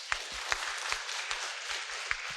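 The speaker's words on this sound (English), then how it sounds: "give a big round of applause to Mr." Applause from parents at a school session after a speaker, fairly quiet and brief, a loose patter of hands with a few sharper individual claps standing out.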